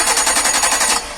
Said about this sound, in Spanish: Vamos a darle simplemente arranque al motor y verifiquemos que el sensor esté generando señal.